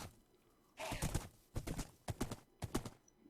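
Horse hooves clip-clopping in the Minecraft video game, a quick galloping rhythm in uneven clusters of hollow thuds, close and clear over a quiet background.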